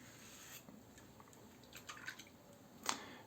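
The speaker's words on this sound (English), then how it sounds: "there is way too much water in this leather, so I'm dripping too much." Water dripping from an overly wet leather strop during a vacation shave with a Fatip Piccolo open comb razor, a few faint scattered drips and one sharper drop near the end, close and quiet.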